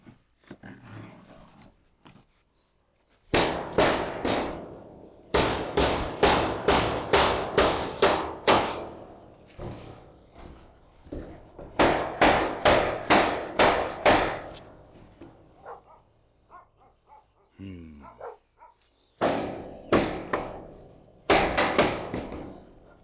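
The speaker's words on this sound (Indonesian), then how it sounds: "Palu besar kita." Heavy sledgehammer blows strike during a work job, coming in loud, rapid bursts of evenly spaced impacts separated by short pauses, close and alone without talk.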